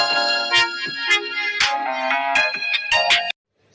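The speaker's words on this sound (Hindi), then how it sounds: "तभी उसका मोबाइल बजा।" A mobile phone ringtone plays indoors: a bright, melodic electronic tune with clear rhythmic notes, loud and close, running steadily for about three seconds before cutting off abruptly into silence.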